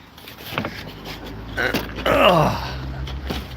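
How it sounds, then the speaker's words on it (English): A garden door creaks and groans as it is pushed open one-handed, giving a few scattered creaks, then a drawn-out, wavering groan near the middle, close by, with faint breathy voice sounds in between. "let's see if we can move this door one-handed"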